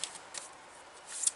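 A large deck of cards being shuffled by hand, giving soft, papery riffles and flutters at close range that rise in bursts near the start and again toward the end, with no talk.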